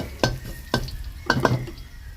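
Ingredients for kale with crispy pork are stir-fried in a pan, with three or four sharp metallic scrapes of the spatula against the pan over a light sizzle, close and clear.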